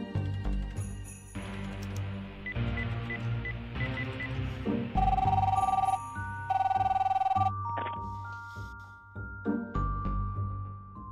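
Telephone in the Darkside Detective video game ringing in repeated electronic bursts over layered game music, with bright tonal rings standing out at a steady rhythm; no voices.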